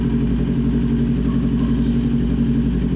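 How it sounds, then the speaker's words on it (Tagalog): A Kawasaki Ninja 400 motorcycle engine idles steadily and smoothly nearby after an oil change, a constant low rumble with no revving. "kung maririnig din nyo, smooth na smooth yung tunog ng makina."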